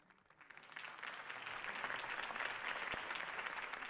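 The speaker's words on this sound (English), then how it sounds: "could have heard that applause" Crowd applause in the Batman: The Telltale Series game swells from a soft start into steady, dense clapping that holds for several seconds, moderately loud with no talk over it.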